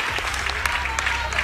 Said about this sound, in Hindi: प्रिया मेहता, तालियों से सम्मानित होनी चाहिए